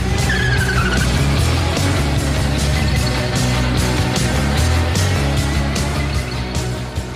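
A car skids hard with tires squealing, loud and continuous over a steady engine roar throughout, with no talk.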